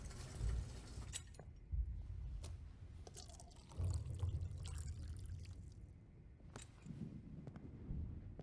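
Water is poured in Life Is Strange, a soft trickling and splashing flow with a few brief drips and clicks, faint and alone.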